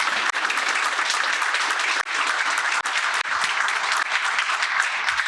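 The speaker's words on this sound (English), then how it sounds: "let's give a round of applause to the panel" Loud, dense audience applause for a conference panel, continuous even clapping from a large crowd close by, with no voices over it.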